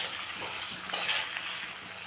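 A steady sizzle from potato and kohlrabi stir-fried in a pan with spices, salt and green chillies. One sharp stirring scrape stands out midway, and no one speaks.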